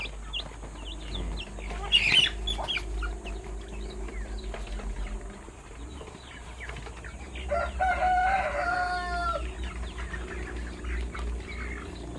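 A Deca Brown Rhode Island cross rooster crows at close range, one drawn-out cock-a-doodle-doo rising clearly in the latter half, with scattered clucks and other fowl calls earlier over a low, steady background hum.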